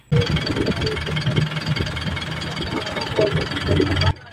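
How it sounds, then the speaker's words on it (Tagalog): A car engine with a check-engine fault runs loud and close, a rough, knocking mechanical clatter that holds steady for several seconds before cutting off abruptly. "So, observe natin yung makina."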